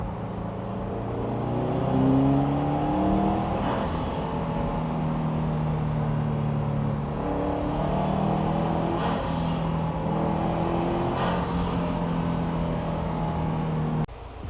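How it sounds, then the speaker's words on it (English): A Subaru WRX STI fitted with a cold air intake revs repeatedly, engine tones climbing and dropping in several close pulls over a steady idle. "The car does pop a little bit more, so intake was a success."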